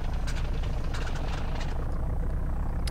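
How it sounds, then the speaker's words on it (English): Twin piston engines of a Grumman Goose amphibian in a flight simulator game, both running steadily after start, a continuous low droning rumble with a faint higher whine, no talking. "We got the right engine going, and we got the left engine going."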